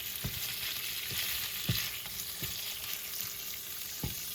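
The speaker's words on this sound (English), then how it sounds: "the sausage is starting to saute" Eckrich sausage sautés in a pan, a soft steady sizzle of frying with several sharp knocks of a utensil stirring against the pan at irregular intervals, fairly quiet and without voices.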